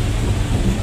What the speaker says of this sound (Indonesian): Ini masih hujan deras.